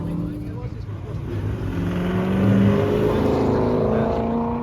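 Chrysler cars drive a warm-up lap on a racetrack, their engines droning and humming steadily as they pass nearby, swelling gradually louder, with a voice talking over the noise.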